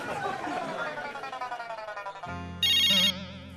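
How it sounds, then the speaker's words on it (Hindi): A telephone ringtone sounds in a household comedy scene, a sustained electronic ringing tone that cuts in after a stretch of background music and talk, loud and close. "लग रहा कस्टमर का फोन आ लिया, उठाओ के?"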